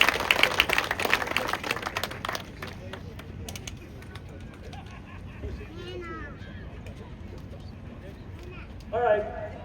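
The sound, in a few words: audience applause at hall of fame ceremony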